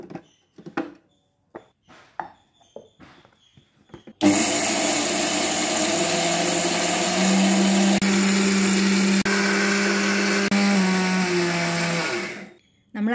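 A mixer grinder grinds rice to a coarse, semolina-like texture for Kerala pidi, a loud, steady motor whine with a rattling, whirring blade that runs for about eight seconds after some quiet kitchen shuffling, then cuts off.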